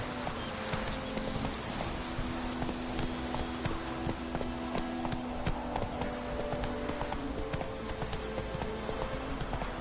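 Roach the horse gallops in Witcher 3: Wild Hunt, with steady, rapid hoofbeats drumming close and continuous throughout, and a low sustained musical drone underneath.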